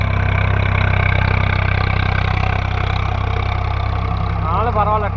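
A Swaraj 855 FE tractor engine runs steadily at a loud, close, rhythmic diesel chug through the whole stretch, with someone talking over it.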